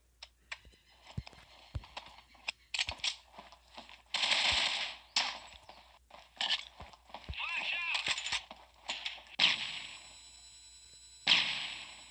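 A video game weapon fires in sharp, loud bursts of repeated shots mixed with clattering, interrupted by longer pauses across the stretch, with voices heard in between.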